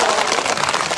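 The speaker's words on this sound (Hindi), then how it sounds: "ताली बजाओ जोर से।" Crowd applauding at a political rally for the foundation day of the J&K National Panthers Party, a dense, steady wash of clapping throughout with no talk over it.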